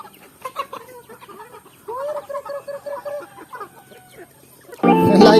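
Farmyard chickens cluck in short broken bursts, and a rooster crows loudly and close at the very end.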